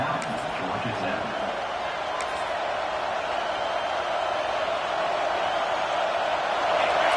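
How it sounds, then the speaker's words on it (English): Broad, steady crowd roar from a packed stadium in a Madden or NCAA football video game as the defense gets loud on third down, a continuous dense wash of cheering with a commentator's voice running over it. "Decibels rising as the crowd gets behind this defense on third down."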